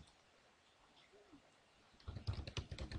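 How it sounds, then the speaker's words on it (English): Someone types on a computer keyboard in a short burst of clicks that begins about two seconds in, after quiet background noise. "we're going to type in external"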